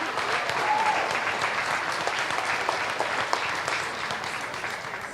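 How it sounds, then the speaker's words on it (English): Steady applause from a crowd at a junior beef show, honoring the grand champion dairy steer, sustained and fairly even for several seconds with a few sharper claps standing out. "Let's give a round of applause to Ben Wicken,"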